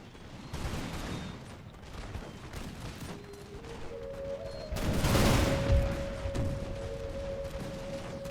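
Musket volleys crackle in ragged, overlapping bursts in the Imperial Splendour game, rolling on for several seconds with a heavier swell midway, mid-distance and fairly loud, while a sustained tone runs underneath.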